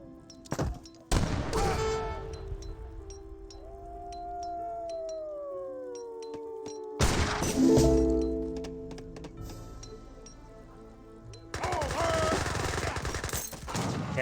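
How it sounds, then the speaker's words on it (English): Gatling guns in the video game Age of Empires 3 fire in loud, fast rattling bursts. The bursts are separated by quieter stretches of tonal battle sounds and game music. "Gatling guns are now firing."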